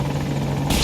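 An Apache attack helicopter in Battlefield 2042 whirs with a steady, loud rotor drone and engine buzz, and a brighter burst of noise lands in the final fraction of a second.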